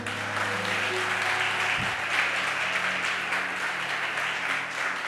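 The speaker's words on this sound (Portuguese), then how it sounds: "Dê um aplauso ao Senhor" A church congregation applauds in a steady, moderately loud wash of clapping that carries on evenly without any break.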